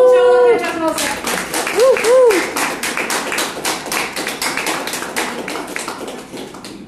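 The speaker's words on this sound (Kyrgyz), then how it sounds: "Анда биз сиздердин алдыңыздарга Ботоева Газиза айымды кол чабуулар менен чакырып алсак" An audience at a company product presentation bursts into dense, loud clapping after a brief musical chime, the applause thinning out gradually toward the end.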